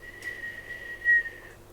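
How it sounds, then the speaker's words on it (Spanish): A single sustained high whistle, held steady for over a second with a brief louder swell, stands in for a sloth's call in a told story. "El perezoso lanza un silbido."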